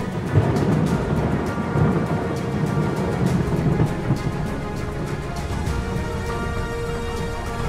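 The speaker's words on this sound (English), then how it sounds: "the promised rain arrives at last" Rolling thunder rumbles over steady pouring rain, with sharp crackling bursts early on fading into a continuous downpour.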